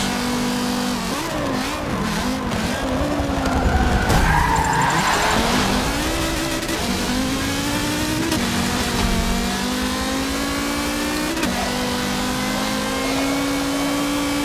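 An Audi built for off-road racing in Forza Motorsport 7 revs loudly and skids through a turn, with long tire squeal and engine pitch rising and falling continuously, close and prominent without voices.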